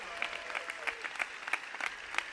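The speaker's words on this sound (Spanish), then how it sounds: "Un aplauso para los intérpretes de signos que llevan la lengua de signos a las personas sordas" A crowd at a political campaign-closing rally in Spain applauds, steady clapping with rhythmic peaks like chanted beats, fairly distant and moderately loud.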